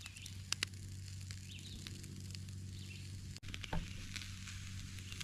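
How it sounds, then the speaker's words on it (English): Steady, soft sizzling of food frying over a campfire, a continuous crackle with a few brief pops and light clinks, no voices. "Now we're getting a sizzle."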